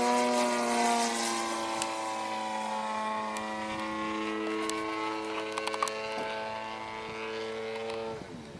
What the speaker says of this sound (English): they're flying a model aeroplane